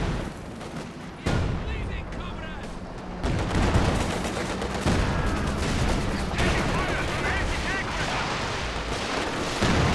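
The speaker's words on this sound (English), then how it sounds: "Oh, I hear some tulip rockets" Tulip rockets fire in Company of Heroes 2 amid dense battlefield noise, a continuous loud barrage of booming blasts and crackling gunfire with a commentator's voice over it.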